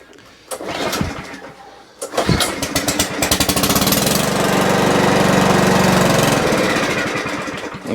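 Mountfield 164 lawnmower pull-started by its recoil cord, a few rattling pulls that catch into a rough chugging engine which runs unevenly for several seconds before faltering, close and loud.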